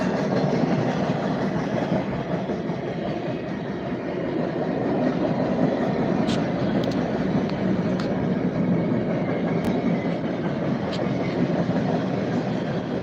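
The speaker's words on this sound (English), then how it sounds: "Norfolk Southern coil cars on the CSX train" A long CSX freight train with Norfolk Southern coil cars and flat cars rumbles past close by in a continuous heavy roar, with occasional sharp metallic squeals and clanks rising above it, in New Castle, Pennsylvania.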